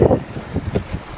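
Moderate southwest wind buffets the microphone aboard a sailboat on the Kattegat, gusting in low rumbling bursts with faint water movement underneath and no voices.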